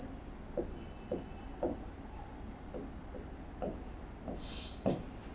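A maths problem being written on a board, with a steady run of short scratchy strokes tapping out at an uneven pace, fairly close, over a faint room hum.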